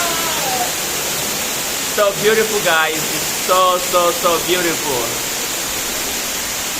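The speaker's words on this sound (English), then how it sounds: "All this noise is the fucking waterfalls." A roaring man-made waterfall at Sun Island in Harbin sends out a steady, broad rush of falling water. It fills the whole span while a person speaks briefly over it.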